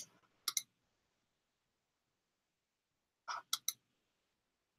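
Computer keyboard keys pressed at a desk, two short pairs of crisp clicks separated by a long silence, with another faint tap at the end; close and quiet, no talking.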